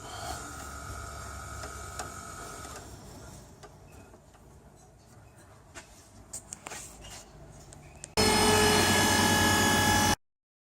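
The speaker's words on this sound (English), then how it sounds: "Suck the oil out of it." A vacuum pump draws oil out of an unserviced A340E four-speed automatic transmission. Quiet mechanical ticking gives way to a loud, steady rushing whir that lasts about two seconds and then cuts off.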